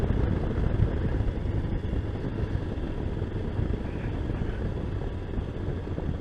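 Wind buffeting the microphone while riding a motorbike under trees, a dense, continuous low roar and rumble with no talk.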